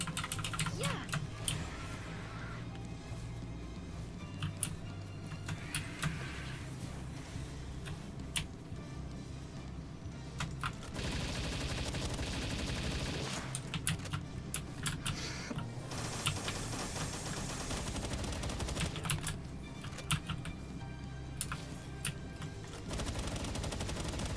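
Rapid gunfire keeps going in Palworld as a gun is aimed at a human, with dense bursts of shots and rattling clicks running over a busy game soundscape throughout.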